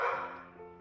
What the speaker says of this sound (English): barking because she senses a chemical change in Dani Stevens' body